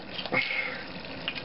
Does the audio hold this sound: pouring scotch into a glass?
yes